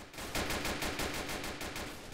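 Rapid automatic gunfire in the police video game Notruf H, a dense burst of about a dozen evenly spaced shots, loud and continuous with no speech.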